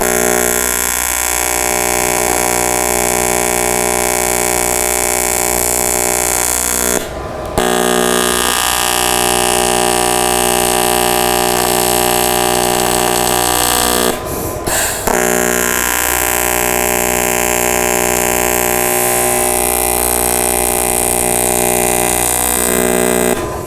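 AC TIG welding on aluminum at 129 amps, fed with 3/32 filler rod and a 3/32 tungsten in the torch, gives a loud, steady buzzing hum that runs continuously, broken twice by short cutoffs when the arc stops.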